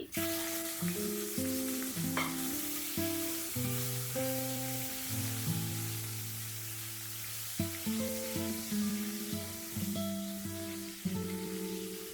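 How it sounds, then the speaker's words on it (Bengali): Chopped tomatoes hit hot oil for Bengali matar paneer and fry with a continuous soft sizzle and faint crackle, set beneath steady background music throughout. "এখন টমেটো কুচি দিয়ে দিচ্ছি।"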